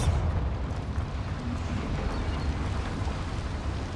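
A Bombarda spell blast in the video game Hogwarts Legacy, a dense, continuous low rumbling roar that stays loud and steady throughout, with no speech.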